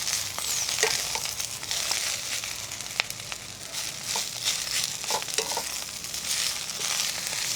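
Gongura leaves stirred into a hot pan over low flame for Andhra-style chutney, giving a steady close sizzle and frying hiss with scraping and clicking of the spoon throughout.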